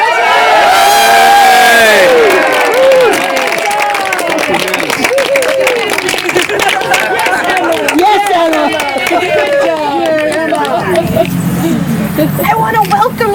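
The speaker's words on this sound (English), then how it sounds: "how about we just cheer?" Wedding guests cheer and whoop loudly as the couple enters, a dense crowd roar with shouts and clapping that stays strong throughout, with voices calling out over it.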